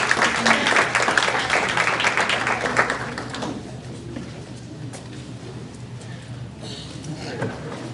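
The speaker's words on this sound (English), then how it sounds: "Give a round of applause." A crowd claps enthusiastically for a few seconds at a school board meeting, the applause fading out into murmuring room noise and a voice speaking.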